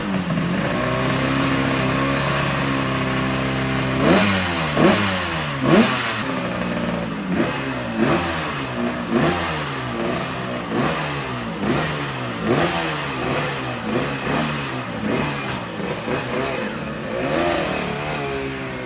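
A 250 racing motorcycle laps a track at speed during practice before qualifying, its engine note rising and falling over and over as it brakes, shifts and accelerates, loud and close throughout, with no voices.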